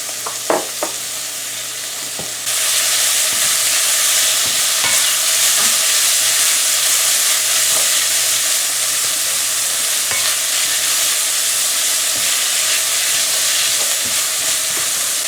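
Shrimp hits a hot pan with garlic and bitter melon, a soft start giving way to a loud, steady sizzle that holds for over ten seconds, with a low hum underneath and occasional stirring clicks.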